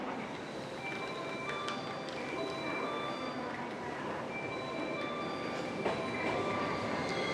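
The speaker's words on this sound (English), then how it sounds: "Here it is, the brand new train, car number 2." A brand new Yakumo train in Japan rumbles past close by, steady rail noise with faint wheel squeals and clicks over the track, no talking.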